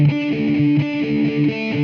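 A distorted electric guitar chugs a short rhythmic pattern of heavy power chords from a riff, loud and gritty, with no voices.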